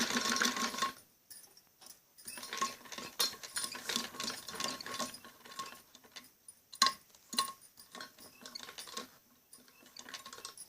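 A sewing machine stitching piping onto the back neck of a kameez, uneven mechanical whirring and ticking in short bursts with pauses between, close and fairly quiet.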